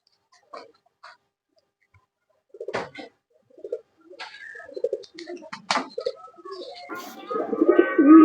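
Pigeons in a rooftop loft, with soft scattered coos and a few wing flaps that build into a denser, louder cooing toward the end, heard close by.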